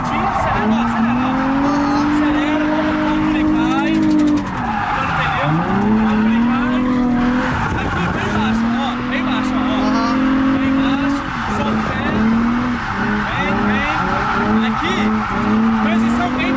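A car drifting on a track, its engine revving up and down in repeated swells while tires squeal and skid, loud and close, with people talking over it.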